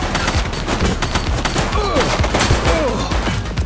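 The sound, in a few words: gunfire in police video game The Precinct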